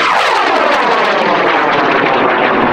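Large high power rocket motor roaring at launch, a loud continuous broadband roar that stays strong and steady throughout.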